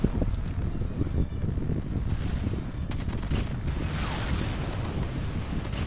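Rapid bursts of Kilo 141 gunfire in Call of Duty Mobile crackle continuously, dense and loud, mixed with explosive rumble and wind-like noise throughout.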